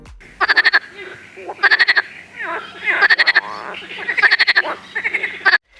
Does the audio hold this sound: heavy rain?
no